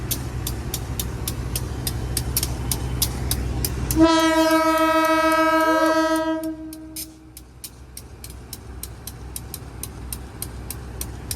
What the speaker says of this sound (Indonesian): Kereta api Logawa persiapan berangkat.